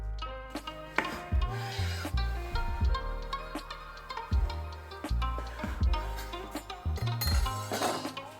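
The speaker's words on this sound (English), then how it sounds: "So cut the crusts off." A knife sawing the crusts off slices of bread, a series of close rasping strokes in an uneven rhythm, with short pauses and light taps in between and no talking.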